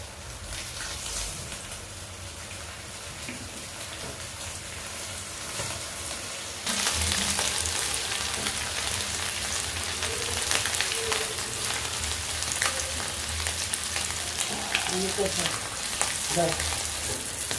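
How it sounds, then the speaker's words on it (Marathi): Mandeli fish dipped in a rava and jowar flour coating with turmeric, salt and chutney fries in hot oil, giving a steady, dense sizzle that swells louder once more pieces go in, with a few crackles and no talking. "आता मच्छी फ्राय करण्यासाठी सोडत आहे"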